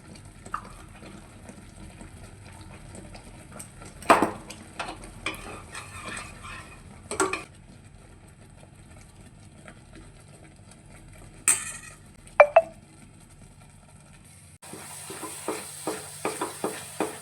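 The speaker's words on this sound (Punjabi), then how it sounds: "ਦੋ ਚਮਚੇ ਦੇ ਕਰੀਬ ਪਾਵਾਂਗੇ ਆਪਾਂ ਦੇਸੀ ਘਿਓ" About two spoons of desi ghee go into a pan with sugar syrup while motichoor laddoo are made: scattered spoon clinks and scrapes against the pan, then a soft, steady sizzle toward the end, quiet and without talk.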